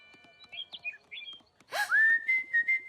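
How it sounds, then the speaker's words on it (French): In a My Little Pony cartoon, a small bird chirps a few soft, quick notes, then whistles louder, bright sustained tones in short repeated bursts. "Ça alors, un petit oiseau."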